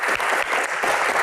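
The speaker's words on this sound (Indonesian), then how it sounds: "tepuk tangan buat Gian." An audience applauding at an Indonesian Q&A stage show, a dense steady wash of clapping close and loud throughout the short moment.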